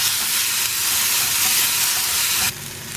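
Half a tomato sizzles and fries in a hot pan, a steady close crackle and hiss that drops to a quieter sizzle near the end.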